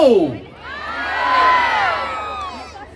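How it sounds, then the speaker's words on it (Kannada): Crowd cheering and whooping at a public gathering in Kunigal where actor Ramesh Aravind appears, swelling loudly and holding for about three seconds, with children's shouts mixed in and a brief voice at the very start. "ಚಪ್ಪಾಳೆ ಸದ್ದು ದಯವಿಟ್ಟು ಮತ್ತೊಮ್ಮೆ ಜೋರಾಗಿರ್ಬೇಕು."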